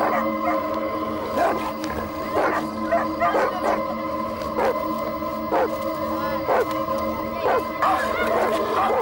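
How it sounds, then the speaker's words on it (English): Several dogs bark at a cobra in repeated sharp bursts over a steady droning background, the barks coming irregularly and fairly close. "With sharp claws and powerful teeth, the dogs are formidable enemies."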